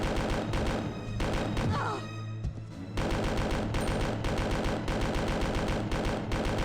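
Rapid gunfire aimed at Mr. X in the PS1 Resident Evil 2 game, a dense burst of repeated shots running almost continuously, with a brief lull before firing resumes.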